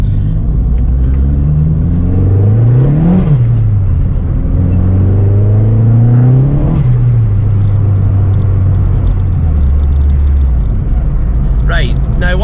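A Vauxhall Corsa B fitted with a C20LET 2.0 16V turbo engine drives on full steering lock. Its engine drones loud and close, swelling and dropping in pitch twice over a constant low rumble.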